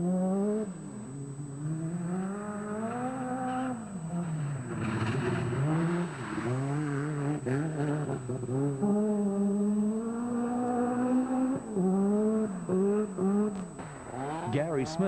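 An ex-Russell Brooks Opel Manta rally car drives a special stage at Rally New Zealand. The engine is loud and close, revving up and down through gear changes, with a voice heard faintly over it.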